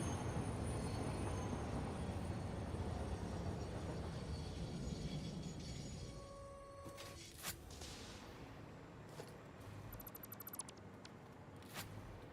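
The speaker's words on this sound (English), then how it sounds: "Forgot I left a train there when I was building." A train in the video game Satisfactory rumbles along, loud and steady at first, then fades while high metallic squeals and tones ring out over a quieter background.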